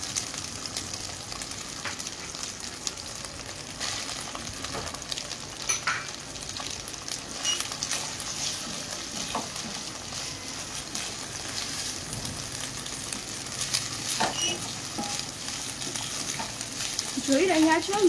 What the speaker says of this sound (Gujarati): લસણ અને આદુને પ્રોપરલી ગરમ કરીને સોંતે થવા દેવાનું છે.